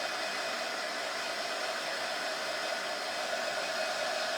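A hot hair dryer blows in a steady, even whoosh of air, held constant and fairly close with no voices.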